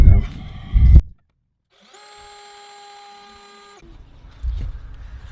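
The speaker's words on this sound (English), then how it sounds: "That is a dull drill bit." Power drill turning a dull bit while working on a screen door, a steady tonal whine for about two seconds between bursts of clattering, rattling handling noise, all close up.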